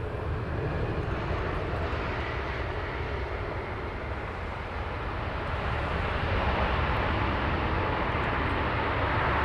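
An airliner lands at Heathrow Airport in the evening, its engines producing a loud, continuous broadband roar that holds nearly constant for the whole stretch, with no talk over it.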